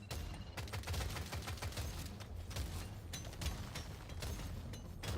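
Rapid, continuous smart rifle fire in the video game Deep Rock Galactic Survivor, a dense stream of sharp shots layered with mechanical clatter and occasional booms, with no talking.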